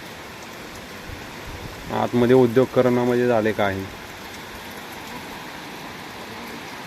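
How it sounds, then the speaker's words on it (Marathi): Heavy, windy rain hisses steadily throughout at a goat shed, and a person speaks briefly partway through. "पाऊस पण भरपूर आहे"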